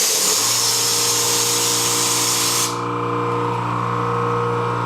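Air compressor feeding a paint spray gun runs with a steady loud motor drone, overlaid by a bright hissing spray that cuts off partway through and leaves the compressor humming on alone.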